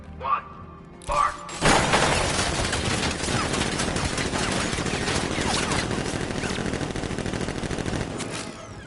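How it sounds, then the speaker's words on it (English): Automated sentry guns in Batman: Arkham Knight open up in a loud, sustained burst of rapid gunfire with crashing impacts, following a couple of brief voice calls at the start. "Activate sentry guns on my mark."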